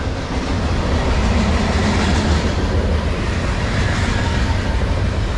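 CSX M409 freight train, an Elephant-style consist led by locomotive 3081, rumbling past close by as a loud, steady broadband roar with heavy low-end engine and wheel noise throughout, no voices.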